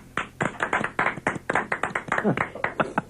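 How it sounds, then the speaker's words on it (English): A burst of clapping, quick irregular hand claps from a small group, fairly close, lasting a few seconds without talk. "We should do a round of applause"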